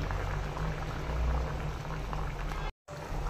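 Mustard hilsa curry boils in a pan with a steady close bubbling and gurgling, briefly cut by a moment of silence near the end.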